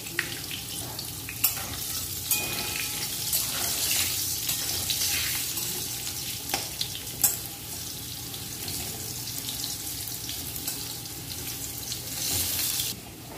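Potatoes fry in hot oil with salt added, a continuous close sizzle overlaid with scraping, clattering stirs and watery splashing, busy and uneven across the whole stretch with no talking.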